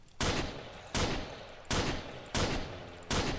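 Five loud, evenly spaced bursts of gunfire in the Minecraft mod The Crafting Dead, each a sharp crack trailing into a short rattling decay, close and without speech.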